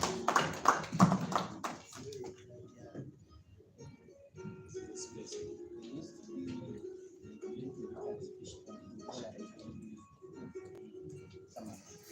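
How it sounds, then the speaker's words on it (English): An audience at the Gulu City Oktoberfest sponsor event breaks into a brief burst of applause that fades within a couple of seconds, leaving a murmuring hall with faint taps and voices. "Big round of applause as Erin makes her way."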